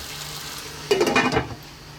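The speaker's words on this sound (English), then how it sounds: "the lid's going to go back on, low heat" A lid set back onto a pot of chicken in fresh tomato sauce simmering on low heat gives a brief, close clatter of cookware midway, between quiet stretches of faint kitchen background.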